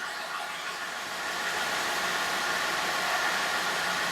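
A 2017 Jeep Wrangler with the 3.6 engine and 107,000 km, flagged with cam timing fault codes P0016 and P0018, runs at a steady idle as an even, broadband hum that swells slightly after the first second and holds, with no talking.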